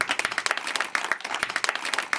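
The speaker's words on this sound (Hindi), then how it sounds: "दोनों बच्चा के लिए एक बार जोरदार तालियां।" An audience at a school event in a village panchayat gathering claps for two students, a fairly close burst of dense, uneven hand claps with sharp individual slaps standing out.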